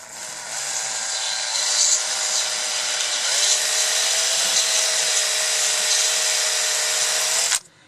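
Close, loud, steady whirring rub as a rear brake part from a 2013-17 Kawasaki Ninja 636 is polished, holding continuously for several seconds before cutting off abruptly.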